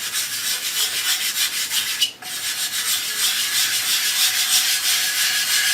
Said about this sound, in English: Now the R is for rubbing it in.